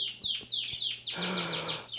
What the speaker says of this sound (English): the birds are being so loud when you're trying to give a talk